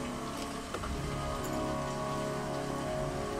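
Steady, faint rain patters throughout a scene in the video game Heavy Rain, a soft continuous hiss of drops on surfaces with no voices.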